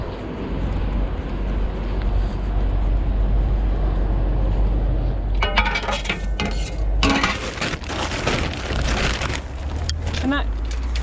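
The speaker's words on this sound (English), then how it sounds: "I love that noise. Clatter of aluminium." Scrap aluminium pieces clatter as they are dropped at a scrap yard, a burst of bright metallic crashes starting midway over a steady low rumble of background noise.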